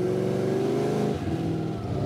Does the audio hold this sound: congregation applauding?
no